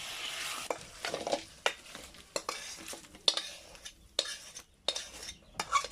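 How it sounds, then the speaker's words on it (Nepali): Local chicken meat with gravy is stirred and fried in a pan, a spoon repeatedly scraping and clinking against the metal in uneven strokes over a soft, steady sizzle. "फाइनल्ली मासु यतिको ग्रेभी र भुटेपछि भयो, मासु रेडी भयो है त।"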